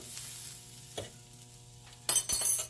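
Pancakes sizzle steadily in a pan on the stove, a low continuous fry that swells into a louder, brighter burst of crackling near the end, with no one talking.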